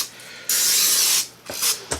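Cooking spray hisses onto a glass baking pan in one steady burst of under a second, followed by a couple of short clicks and knocks from the can or pan.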